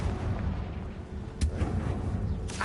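A Confringo fire spell from the Hogwarts Legacy video game blasts with a sharp explosive burst, followed by rumbling booms and crackling impacts over a steady low game ambience.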